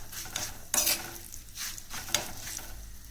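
A tempering of dried red chillies fries in ghee while being stirred, giving a soft sizzle. Two sharper scrapes of a utensil against the pan stand out.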